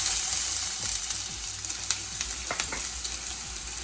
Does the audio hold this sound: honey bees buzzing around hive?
no